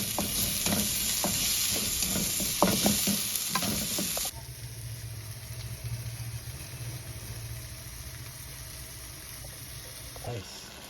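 Garlic and tomatoes sauté in a pan with a steady sizzle and stirring scrapes, loud at first and then dropping to a softer hiss with a low hum underneath.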